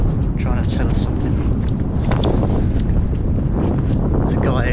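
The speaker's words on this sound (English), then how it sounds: "It's always windy up here." Strong wind gusting across an exposed hilltop, roaring and buffeting the microphone loudly and continuously throughout.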